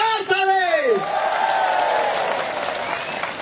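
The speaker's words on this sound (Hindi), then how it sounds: "एसीएफ के लिए एक बार जोरदार ताली।" Applause from a crowd at a one-day hunger strike rally in Arunachal, a steady wash of clapping that follows a speaker's raised voice and carries on alone to the end.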